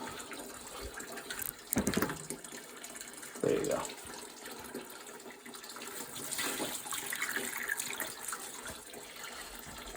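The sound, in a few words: water poured into a Burnham steam boiler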